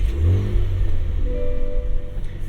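Cadillac CT4-V Blackwing engine starting while warm: a brief loud starter whir and catch followed by a settling, rumbling idle, heard close and alone.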